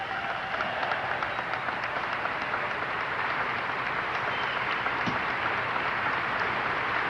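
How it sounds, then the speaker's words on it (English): A large audience applauding the President of the United States, a steady, dense wash of clapping that holds at an even level throughout, somewhat distant, with no speech. "Now he'll be introduced and the applause will start all over again"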